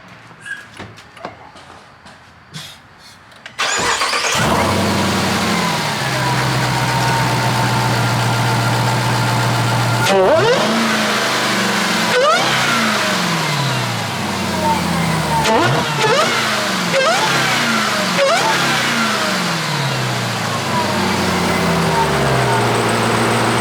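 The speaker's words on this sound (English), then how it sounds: "I'm gonna give it a start up, see how it sounds, and give it a couple revs" Jeep Trackhawk fitted with a carbon fiber cold air intake, quiet at first with small clicks, then a loud engine start settling into a deep idle with several sharp throttle blips.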